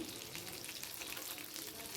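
Chicken pieces for butter garlic chicken fry slowly in a pan, a soft, even, continuous sizzle with faint crackles, quiet and close, no voices.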